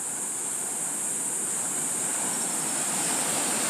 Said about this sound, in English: But I figured, you know what, these waves are big enough.